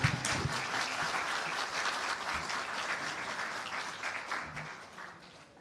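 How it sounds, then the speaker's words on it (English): A roomful of people applauding a minister at a Jamaican policy consultation workshop, dense continuous clapping that holds steady and then thins out and fades toward the end. "You can clap him more than that. A little bit more than that."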